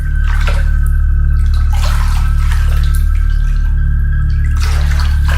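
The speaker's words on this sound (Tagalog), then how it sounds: "naririnig ko pa rin ang ingay ng tubig na nagmumula sa common CR" Water runs steadily in a shared apartment bathroom at night, a continuous loud rush with occasional splashing surges, close by and without voices.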